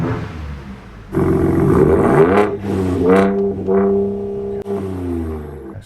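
A Ford Raptor exhaust in Baja mode, loud and close, revs up in several rising and falling blips, settling back to a deep idle between pulls, with no talk.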